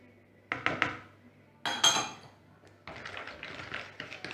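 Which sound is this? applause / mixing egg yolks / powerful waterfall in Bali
mixing egg yolks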